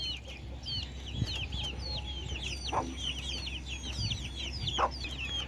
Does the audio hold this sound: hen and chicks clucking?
yes